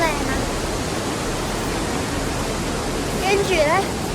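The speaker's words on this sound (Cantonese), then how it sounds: "除咗前面有個好靚好宏偉嘅瀑布之外咧，佢其實側邊呢個小瀑布咧" A small side waterfall in Lassen National Park gives a steady, dense rush of falling water, broad and constant throughout, with a faint voice rising briefly near the end.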